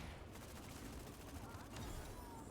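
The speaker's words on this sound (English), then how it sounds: "Someone is shooting me right there." Gunfire in the mech battle game Super Mecha Champions, a steady stream of rapid shots rattling throughout amid the game's busy soundtrack and effects, with a louder burst near the end.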